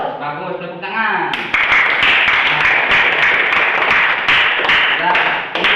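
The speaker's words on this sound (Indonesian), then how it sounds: "bagus, tepuk tangan" Classroom applause at a teacher-training session in Cirebon, a dense burst of students clapping that starts abruptly and holds steady to the end, with voices talking and calling out over it.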